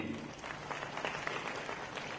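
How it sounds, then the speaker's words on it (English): An audience at a book release event claps steadily, a dense, moderately loud round of applause that carries on without pause. "It was a truly deserved round of applause for him"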